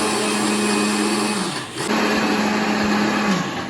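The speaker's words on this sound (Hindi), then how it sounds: "यार बहुत शोर करता है मिक्सर।" An electric mixer grinder whirs loudly and continuously, grinding coconut powder for a dhaniya panjri, dipping briefly in pitch as it is switched off and restarted before running on at full speed.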